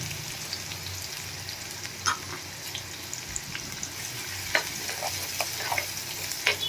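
Onion, garlic and asafoetida fry in a pan for a Gujarati vaseti flower shaak, giving a continuous, moderate sizzle with scattered spoon taps and clicks.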